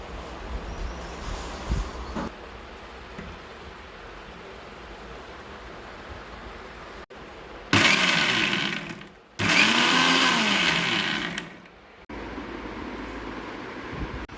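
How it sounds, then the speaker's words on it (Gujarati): Mixer grinder blending jamun fruit pulp with water, running in two loud bursts of whirring motor noise with a short pause between them and a quieter stretch afterward. "મિક્સરમાં પલ્પને ક્રશ કરી લો"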